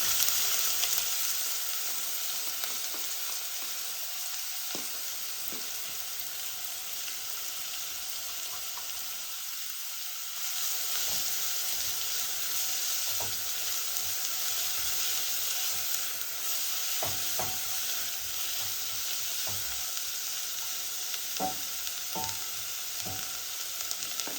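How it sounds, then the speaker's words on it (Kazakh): Chopped onions sizzle and fry in oil, a steady soft crackle with occasional stirring clicks, faint and continuous with no voices. "туралған жуамызды қуырып аламыз"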